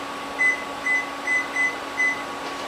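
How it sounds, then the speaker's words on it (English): A kitchen timer is set while a pot boils on the stove, giving five short, evenly spaced high beeps over a steady low hum. "I'm going to set my timer."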